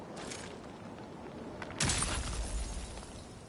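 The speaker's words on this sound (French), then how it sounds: "Je vais ouvrir ce cristal." Crystal shattering in the video game Spider-Man 2: a sudden loud crash and burst of glassy breaking after a quieter stretch, followed by lingering debris and rumble.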